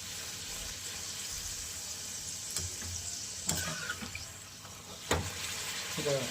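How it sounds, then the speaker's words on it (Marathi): Bhatura dough deep frying in hot oil for chole bhature, a steady broadband hiss with a few sharper crackles and bubbling bursts, fairly quiet and without speech. "त्याला छानसं तळून घ्यायचं. भटोरा असा फुगला पाहिजे."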